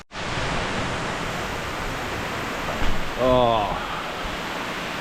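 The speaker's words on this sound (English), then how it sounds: "it's already pouring rain" Heavy rain pours down ahead of Hurricane Milton as a dense, unbroken hiss, loud and close throughout, while a voice briefly exclaims near the end.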